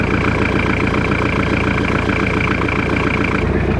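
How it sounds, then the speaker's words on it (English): Diesel engine of a Jeep idling in extreme winter cold, a loud steady close-up rumble with an even, continuous drone and no talk. "at least now that the engine's running"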